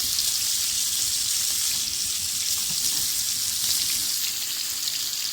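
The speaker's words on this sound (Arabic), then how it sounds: "هنزل بصدور الفراخ عليها وهشوحها" Chicken breasts searing in a hot pan with a spoonful of ghee and oil, a steady, loud, hissing sizzle that stays even and continuous from start to finish.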